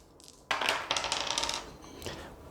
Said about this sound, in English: First things first, I gotta roll the dice.